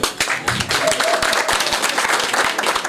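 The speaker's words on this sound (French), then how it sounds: "On peut applaudir pour ça." Wedding guests clapping together at a ceremony, close, brisk overlapping handclaps forming steady applause for about three seconds.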